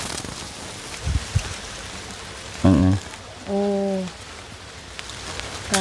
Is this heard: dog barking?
no